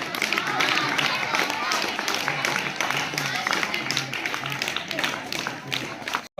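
A crowd of students at a school event keeps clapping continuously, the rapid overlapping claps filling the whole stretch alongside scattered voices, then stopping abruptly at the end.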